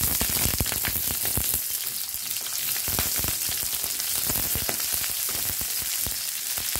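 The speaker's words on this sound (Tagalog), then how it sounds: "ngayon guys ay magigisa tayo ng bawang. Sibuyas." Garlic and onion sautéing in a hot pan for chicken tomato sauce, a steady dense sizzle with crackling pops throughout, close and continuous with no talk.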